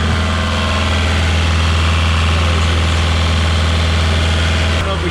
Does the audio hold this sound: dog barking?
no